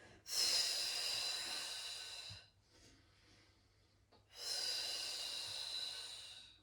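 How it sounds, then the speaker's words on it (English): Two long, forceful exhales during a core exercise, each a loud, breathy rush close to the microphone, separated by a quieter pause with soft breathing. "big exhale as you lift"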